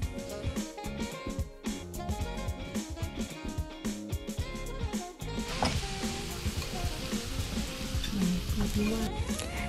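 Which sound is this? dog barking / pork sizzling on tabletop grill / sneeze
pork sizzling on tabletop grill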